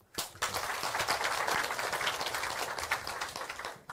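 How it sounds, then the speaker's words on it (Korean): An audience claps in unison at a lecture on JADAM organic farming and pesticides, a dense, steady wash of applause for about four seconds, fairly even in level. "박수"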